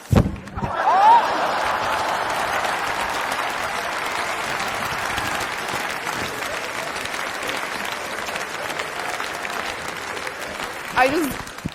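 A large audience at a talk claps together in sustained applause that rises sharply at the start and holds steady for about eleven seconds, with a brief louder swell near the end.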